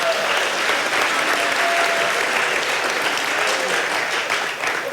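A church congregation applauds and cheers for three people in a sustained, dense wash of clapping and voices that stays loud and steady throughout.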